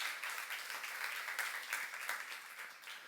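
A Korean church congregation at a youth service claps together after the sermon, soft, somewhat distant applause with a few sharper individual claps, quiet throughout.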